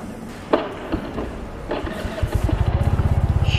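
An FKM LTS 125 motorcycle engine turns over and catches, then settles into a steady, rapid idle putter close by, with no talk over it.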